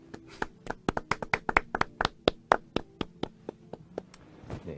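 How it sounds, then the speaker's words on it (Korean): A small audience claps for a performer at a live singing event, with distinct, close, uneven handclaps that thin out toward the end and no talking. "민석이에게 박수 한 번"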